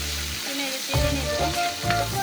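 Chicken sizzles steadily in a hot pan with native hen, with a few scraping stirs of a spoon against the pan breaking through the frying hiss.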